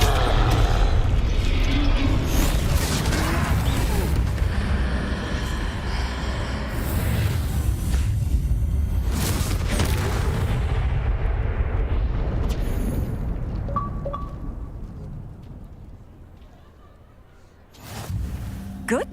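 Blasting Confringo spell explosions in Hogwarts Legacy during a fight with trolls: a dense, loud, continuous roar of booming impacts and rumble that thins out near the end before a final sharp burst.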